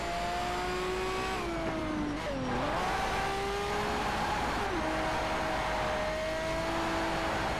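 A race car engine drones loudly and continuously in Need for Speed Shift, pitch dipping and rising through gear changes and a cornering moment, with brief tire noise mixed in, no voices.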